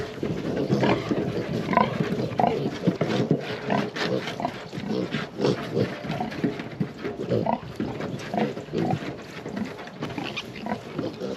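Pigs grunting and snorting on a farm while piglets are moved, a steady run of close, overlapping grunts and squeals, with a person's voice calling now and then over the animals.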